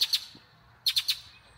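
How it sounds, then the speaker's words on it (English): A bird chirps close by, two sharp tweets, a pause, then three more quick bright chirps, outdoors at a historic site in Plains, Georgia, with no talk over it. "Shut up, bird."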